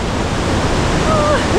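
A waterfall among cliffs in the Dolomites gives a steady, dense roar of rushing water, continuous and fairly loud, with a faint whistle-like tone briefly audible over it.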